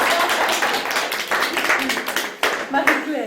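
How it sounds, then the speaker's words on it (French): Group applause at a local exchange-system gathering in Watermael-Boitsfort, steady clapping from a small nearby audience mixed with scattered voices and cheers. "Oui, on applaudit."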